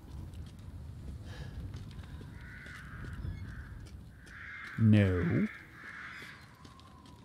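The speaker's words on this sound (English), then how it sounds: "There's a lot of birds." A crow-like caw rings out once in Resident Evil Village, loud and harsh, in an eerie outdoor game scene with a low background drone, while a player speaks briefly nearby.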